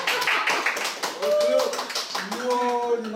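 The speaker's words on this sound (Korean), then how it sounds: "박수 좀 주세요." A class of students claps briefly for a teacher during a school-violence prevention quiz lesson at a middle school in Aewol, Jeju. Sharp, close claps come first, then a voice talks over the fading clapping.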